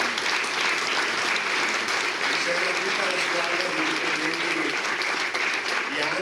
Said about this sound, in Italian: ai quali chiedo davvero un grande applauso